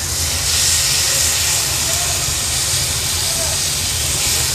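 Tomato added to hot oil with turmeric and masala, giving a loud, steady, close hiss and sizzle that holds evenly throughout.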